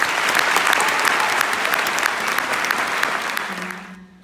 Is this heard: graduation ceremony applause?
yes